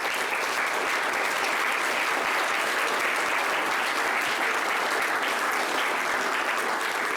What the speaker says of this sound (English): A round of applause for everybody that came,